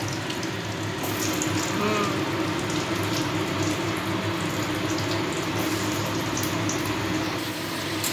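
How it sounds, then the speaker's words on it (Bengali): Potatoes frying in hot oil with whole cumin seeds, a steady dense crackling sizzle that holds at an even level throughout, with faint voices now and then. "আলুটাকে আবার ভেজে নেব"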